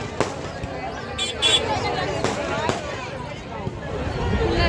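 Firecrackers go off at a village temple festival as a handful of sharp, scattered bangs spread over a few seconds, with people talking loudly throughout.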